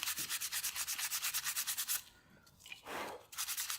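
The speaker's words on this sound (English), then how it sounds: "Make sure you're sanding in the direction of the grain." Rhythmic hand sanding of wood along the grain, quick even back-and-forth rasping strokes, a brief pause with a soft swipe, then the strokes resume.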